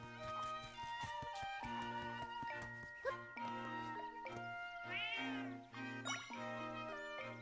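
A cat meowing in Zelda: Echoes of Wisdom, with a couple of meows over steady in-game music and chimes and no talking.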